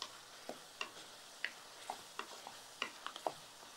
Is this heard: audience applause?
no